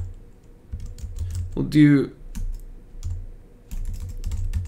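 Rapid clicks of typing on a computer keyboard run steadily in short bursts, with a person speaking briefly partway through.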